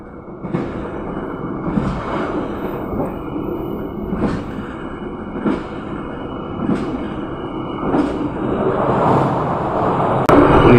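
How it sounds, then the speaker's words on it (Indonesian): The Brawijaya passenger train passes on the Blitar–Malang section, a continuous loud rumble with regular clickety-clack wheel beats roughly every one to one and a half seconds, growing louder toward the end. "saat kereta api Brawijaya sudah pagi melintas di petak Blitar, Malang"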